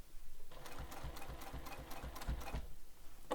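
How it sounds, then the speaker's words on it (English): A sewing machine runs a steady, rapid mechanical stitching rhythm while top stitching a bag, close and continuous for a few seconds before stopping. "and I start top stitching"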